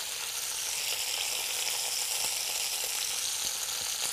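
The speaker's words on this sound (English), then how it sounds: "it's browned on both sides. You can really hear it sizzling." Chicken browns in a Cuisinart MSC-600 3-in-1 multi-cooker, giving a steady, close, continuous sizzle and crackle with no talking.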